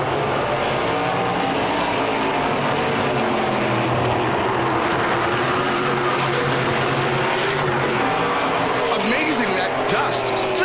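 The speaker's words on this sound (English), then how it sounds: "the field thunders in through one and two" NASCAR Pinty's Series race cars thunder through turns one and two on a dusty oval in Wetaskiwin, Alberta, during the 2018 Luxxur 300. A dense, continuous roar of engines fills the scene, loud and steady throughout, with the race field packed together.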